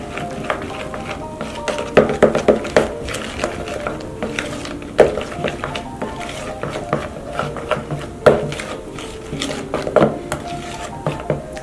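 Fluffy slime mixed with shaving cream in a bowl, irregular scraping and knocking of a utensil against the bowl with periodic louder clacks, close up.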